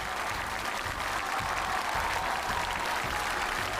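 A studio audience on a variety show claps to welcome a botanist guest, with dense, even applause that holds steady throughout.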